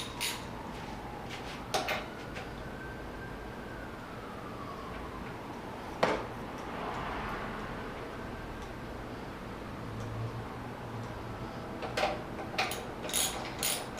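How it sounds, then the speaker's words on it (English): A hand ratchet clicks in short bursts while bolts on SSR Razkull 125cc motorcycle forks are tightened, with sparse metallic ticks and pauses, and a faint tonal squeak early on against a quiet workshop background. "And bolt it all back up."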